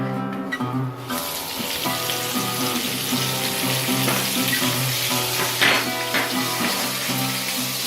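Pork frying in chili oil in a pan, a loud, steady sizzle close up that starts with a sharp hiss as the meat goes in, over a low droning hum in the background.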